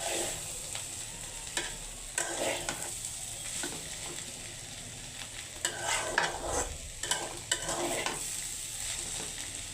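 Poppy seeds (posto) frying and being stirred in a pan in a home kitchen: a steady close sizzle with repeated scraping stirs and occasional light clinks, no talk.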